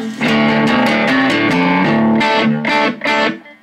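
Distorted electric guitar chords ring out loud and gritty through a Boss Katana Mini amp, several strummed hits with sustained, fuzzy tone.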